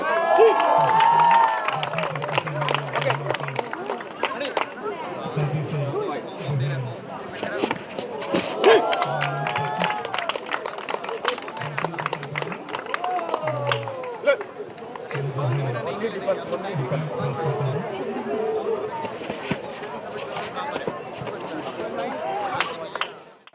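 A large crowd cheers and shouts after a demo fight, over a dense, steady roar, with excited voices rising throughout and bursts of clapping mixed in.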